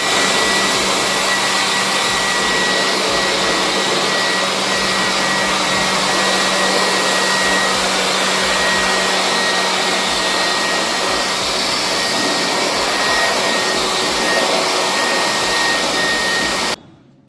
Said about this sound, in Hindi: ड्रायर से पानी को सुखा लेना है।